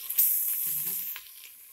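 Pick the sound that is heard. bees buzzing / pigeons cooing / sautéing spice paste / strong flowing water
sautéing spice paste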